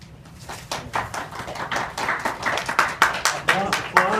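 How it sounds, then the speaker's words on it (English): Clapping from a conference audience in Boston builds over a few seconds into a quick patter of close hand claps, rising in loudness, with a voice speaking over it. "Applause is not necessary."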